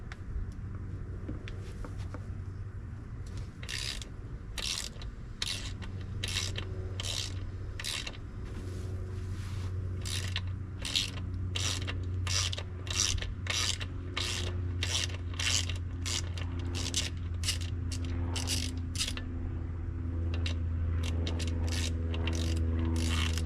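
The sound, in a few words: wrench removing nut on Mercury 50hp outboard gear housing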